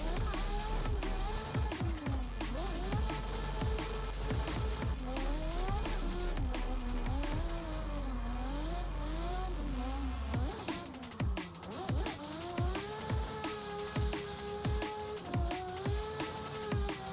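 Sim racing game car on a drifting lap, engine droning and revving up and down continuously with repeated tire squeal, loud and close throughout, with a brief lull near the middle before the engine picks back up.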